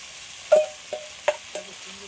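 Shrimp drop into a pan of chicken cooking with ripe mango, giving a few short spitting bursts of sizzle over a low background hiss, with faint stirring scrapes between them.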